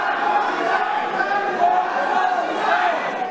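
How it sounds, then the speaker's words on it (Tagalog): A crowd shouts together demanding that President Marcos resign, a dense, continuous roar of raised voices with no single speaker standing out. "Ang mga banat na yan ng nakababatang Duterte sinabayan ng mga hiyawan na Marcos resign."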